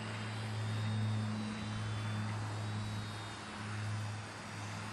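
Parkzone Ultra Micro T-28 RC airplane flying a go-around, its small electric motor giving a steady buzzing drone that swells and fades slightly as it passes, heard alone without talk.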